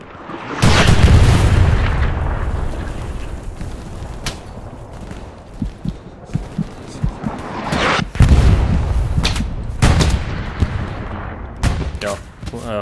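Rapid gunfire and deep explosive booms from the World War II shooter Hell Let Loose, fighting at Sainte-Marie-du-Mont, with loud bursts and sharp single shots scattered across the clip.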